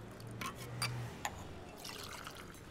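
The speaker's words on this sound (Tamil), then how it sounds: "தண்ணி ஊத்துறா." Water is poured from a jug, producing a short, soft trickle with a few brief splashy bursts, quiet and close, with no talking over it.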